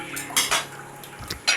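A spoon clinks and scrapes against a pot of Assamese tomato fish curry, several sharp metallic knocks in an uneven rhythm, close and fairly loud with no talking.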